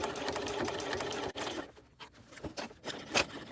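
A sewing machine stitching an appliqué onto a fabric bag, heard as a steady, close whirring hum that stops abruptly after about a second and a half and is followed by a few soft clicks and handling noises.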